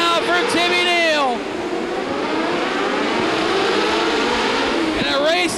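Non-winged mini sprint race cars racing indoors, engines roaring loudly and whining past in rising and falling sweeps, with a dense constant engine drone and a crowd-like wash filling the space between passes.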